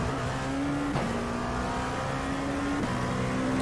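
An LMP2 prototype race car engine at Magny-Cours in a racing simulator, a loud steady revving drone that steps in pitch at two quick gear shifts, with no talking.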